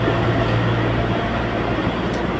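A steady, heavy rumble of the Guwahati–New Jalpaiguri Vande Bharat Express (train 22228) departing along the rails, continuous and close, with no break or voices.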